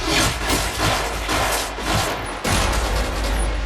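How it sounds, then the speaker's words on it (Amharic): A fierce exchange of gunfire in a film gangster shootout that follows a car explosion: loud, dense volleys of rapid shots rattle almost continuously, with only brief dips between bursts. "ከዚህ ፍንዳታ በኋላ ወዲያውኑ አስፈሪ የተኩስ ልውውጥ ተቀሰቀሰ።"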